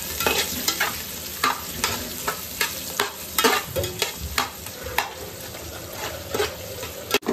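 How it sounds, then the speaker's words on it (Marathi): Roughly cut onion sautés in oil in a pan, a continuous close sizzle broken by regular scraping stir strokes about every half second, with no voices. "तर यामध्ये मी रफली कट केला कांदा ऍड करते. परतून घेते कांद्याला."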